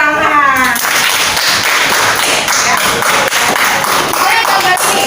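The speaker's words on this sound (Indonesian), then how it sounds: "Tepuk tangan." Clapping from a classroom of students, a dense burst of applause filling most of the moment, with some voices mixed in near the start.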